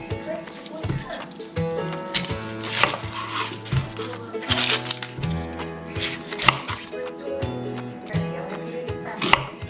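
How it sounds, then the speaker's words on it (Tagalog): A knife chops cilantro and yellow onion in a big bowl for sofrito, giving close, irregular thuds and clacks in quick clusters over a steady tonal background, with a voice talking faintly. "chop it in a big bowl."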